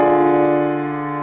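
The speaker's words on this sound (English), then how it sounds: "And we have diminished triads, which sound like this." A diminished triad chord is struck once and held, its tone decaying slowly, with nothing else heard.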